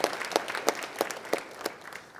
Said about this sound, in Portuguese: Podemos aplaudir a palavra de salvação